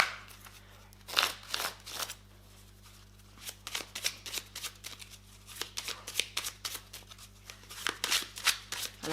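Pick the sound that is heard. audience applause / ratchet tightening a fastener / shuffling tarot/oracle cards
shuffling tarot/oracle cards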